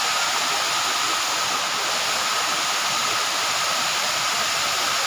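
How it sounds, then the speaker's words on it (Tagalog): Encanto Falls in Libmanan, Camarines Sur, produces a loud, continuous broadband roar of falling water that holds steady and close throughout, with no voices over it. "Ito po ang Encanto Falls."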